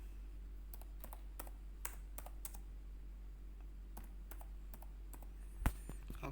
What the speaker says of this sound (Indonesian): kita coba ketik dulu BBRI